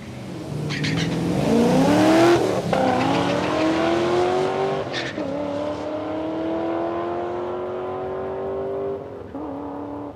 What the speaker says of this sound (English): Actually just kept the boot into it and spun the tyres way out onto the concrete there.